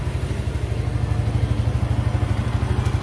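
Yamaha Sniper 150 motorcycle engine fitted with a Datatec ECU, running a rumble idle: a steady, loud, close pulsing thump repeating rapidly and evenly throughout, with no talking.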